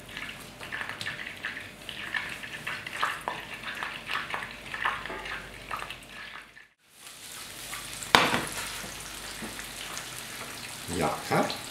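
Garlic and onion frying in hot oil in a pan, a close hissing sizzle with stirring scrapes and clicks, briefly cutting out midway before resuming with a louder burst.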